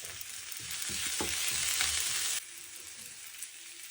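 Curry leaves and fenugreek sauté in a pan for a Jaffna-style dried fish curry with flat beans, crackling with a bright sizzle that swells and then drops abruptly to a quieter fry.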